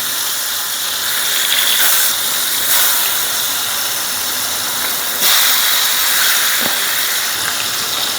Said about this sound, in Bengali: তেলটা গরম হয়ে গেছে, দিয়ে দেবো মাছ